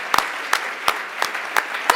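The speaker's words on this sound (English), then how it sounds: "Can we have a big round of applause for Andre" Audience applause at a hackathon award ceremony, with a handful of crisp, separate claps ringing out at a slow uneven pace over a low hum of the room.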